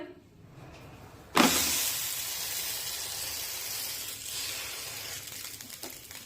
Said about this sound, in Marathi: आता हे थालीपीठ आपण तव्यावर टाकून भाजून घेऊया